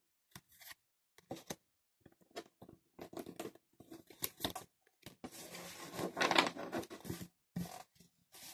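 Tarot cards are spread out and drawn, soft papery slides, flicks and shuffling rustles in short, irregular bursts, close and fairly quiet, with a longer sweeping rustle near the end.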